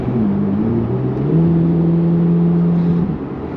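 A C8 Corvette Z06 engine revs hard, its steady droning tone stepping up in pitch partway through and holding loud before easing off near the end, heard alone without voices.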